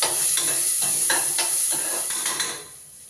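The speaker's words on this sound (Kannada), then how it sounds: "ಈರುಳ್ಳಿ ಕಂದು ಬಣ್ಣ ಬರೋತಂದ್ರೆ ಚೆನ್ನಾಗಿ ಫ್ರೈ ಮಾಡಬೇಕು" Onions frying in a pan for mushroom gravy, sizzling steadily while a utensil stirs them in a series of scraping strokes. The sizzle stays bright and close, then thins out near the end, with no talking.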